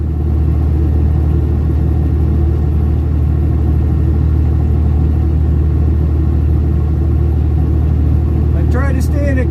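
Vehicle engine running at a steady low RPM while driving in winter, a constant loud droning rumble throughout, with a brief voice near the end.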